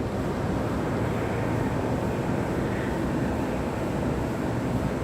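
A Spirit Airlines Airbus A321 arriving from Fort Lauderdale at Raleigh-Durham airport gives a steady, faint, broad jet roar throughout, with no talking.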